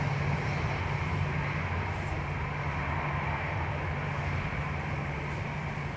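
A Ryanair jet at Dublin Airport on a windy day sends a steady, fairly distant engine roar mixed with wind noise, continuous and unbroken, with no talking.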